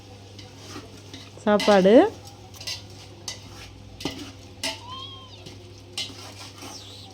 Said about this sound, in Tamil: இங்கே நல்லா வதங்கிக்கிச்சு பாருங்கள், வெங்காயம் தக்காளி எதுவுமே தெரியல, நல்லா வதக்கிட்டேன்